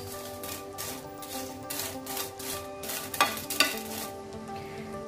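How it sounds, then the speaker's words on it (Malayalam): Dried Kashmiri red chillies dry roasting in a pan for a chilli chammanthi, with a soft crackle and stirring scrapes of a spatula, plus a couple of sharper clinks near the end, fairly quiet and close. "വറ്റൽമുളക് ചേർത്തിട്ട് നമ്മളിത് ഡ്രൈ റോസ്റ്റാണ് ചെയ്യുന്നത്"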